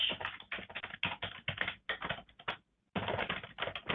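Rapid keyboard typing rattles up close in quick bursts, with one short pause before the clatter resumes.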